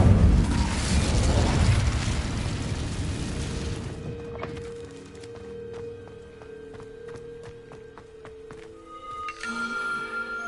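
An Incendio fire spell cast in Hogwarts Legacy erupts as a loud, dense whooshing blast for several seconds. It then drops away to quiet tonal chimes and soft ambience.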